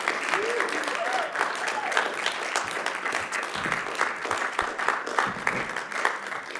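Sustained audience applause fills a theatre, a dense steady wash of clapping throughout, with a few faint voices and a cheer rising over it.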